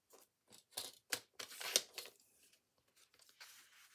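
Paper being sliced with a cutter while held in a lap, a string of short crisp cuts and rasping tears in uneven bursts, close and fairly quiet, with no talking.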